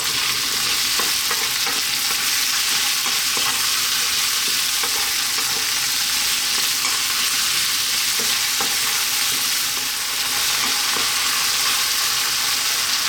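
Chopped onion with salt cooks in a pan for a vegetable curry, giving a loud, continuous close sizzle with faint stirring scrapes scattered throughout and no talking.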